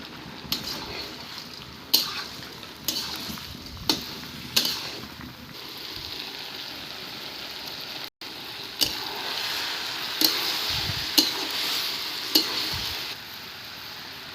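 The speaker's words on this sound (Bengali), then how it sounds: "ঢেকে ঢেকে মাংসর মতো করে কষিয়ে নিতে হবে 5 মিনিটের মতো।" Masala is sautéed in a covered pan in a Bengali village kitchen in Andaman, with a low, even sizzle broken by repeated sharp scrapes and stirring knocks at irregular intervals, close by.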